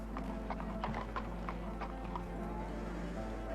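Horses being run at an old-time Appleby horse fair, with steady clip-clop hoofbeats on hard ground and an occasional whinny over a constant crowd murmur.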